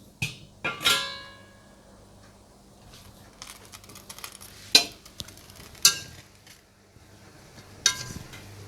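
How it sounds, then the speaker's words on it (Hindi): Fish biryani is scooped into a serving dish, with a few sharp clinks and scrapes of a spoon against the pot spaced irregularly over quiet background. "हल्की आंच पर दम लगाने के बाद फिश बिरयानी तैयार है और अब इसे मैं सर्विंग डिश में निकाल लूंगी।"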